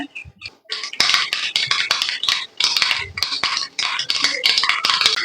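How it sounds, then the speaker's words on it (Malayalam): Mustard seeds crackle and pop in hot oil in a home kitchen pan, a rapid, busy scatter of sharp spluttering bursts that keeps going, close and fairly loud, with no talking. "ഇനി കടുക് പൊട്ടി വരട്ടെ."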